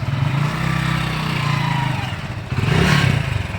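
A motorcycle engine chugs close by at a steady idle, then revs up briefly near the end with a rougher, louder rise before settling, with no voices over it.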